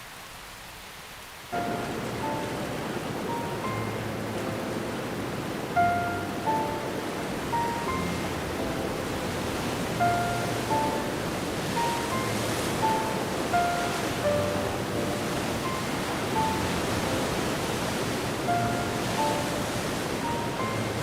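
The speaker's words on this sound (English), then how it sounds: "Myriad waterfalls rejuvenate every inch of the forest as they steadily flow downward." Waterfalls flow steadily through a damp, rain-refreshed forest, a continuous broadband rush of falling water that holds even and moderately loud throughout, with soft melodic tones running over it.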